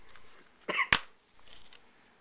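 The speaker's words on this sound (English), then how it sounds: "Coughing." A person gives two quick coughs close to the microphone, a short rough burst followed by a sharper one, then quiet room tone.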